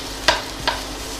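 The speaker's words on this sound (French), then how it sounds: "Je vais verser de l'huile d'olive. Et j'ajoute dans un premier temps l'oignon émincé." Sliced onion sizzles in olive oil in a pan on an induction hob over medium heat, a soft, steady hiss broken by two sharp clicks from a utensil against the pan.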